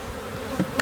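Honey bees buzzing around an opened hive during an inspection, a faint steady hum with a couple of brief louder passes close by.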